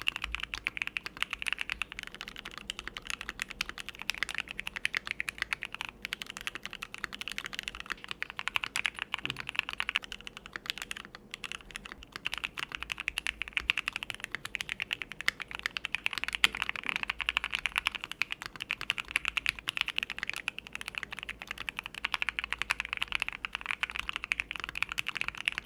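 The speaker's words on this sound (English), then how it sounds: "All 3 of these setups make the Q1 sound louder, livelier, and thockier." Steady, fast typing on a modded Keychron Q1 mechanical keyboard with force-break mod, polyfill and PE foam, the plate foam left out, giving a dense run of close, even keystrokes with no voices throughout.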